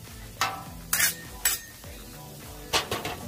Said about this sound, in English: once the sausage starts cooking and browning, it'll be easier for us to chop it up